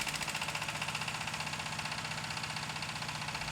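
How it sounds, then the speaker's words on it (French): Old diesel engines driving water pumps at an opal mine chug with a steady, rapid knocking pulse, close and continuous throughout. "on arrive à faire fonctionner les vieux moteurs diesel."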